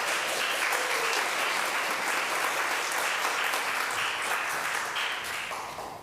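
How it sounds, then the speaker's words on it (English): Steady audience applause fills a community hall at a Presbyterian Women fall gathering, dense and sustained before easing slightly near the end. "So let's welcome him with a round of applause."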